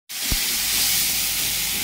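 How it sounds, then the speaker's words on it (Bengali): Spice masala with ginger garlic paste frying in a pan for a lote fish dish: a loud, steady sizzle that starts abruptly with a soft thump and hisses on without a break. "এরপরে এতে আদা রসুনের বাটা দিয়ে দিলাম। এটা ভালো করে ভেজে নিচ্ছি।"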